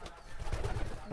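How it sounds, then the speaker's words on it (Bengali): Pigeons gathering at a water dish to drink, with soft low cooing and muffled rustling close by, steady and fairly quiet throughout. "সবগুলো কবুতর দেখেন জল খাওয়ার জন্য এসেছে, জলটা খাবে।"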